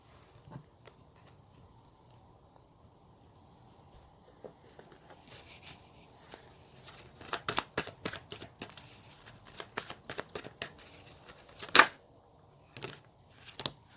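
Tarot cards are shuffled by hand to draw one more card, making soft, rapid riffling flutters in bursts that grow busier partway through, with a few sharper snaps in a quiet room.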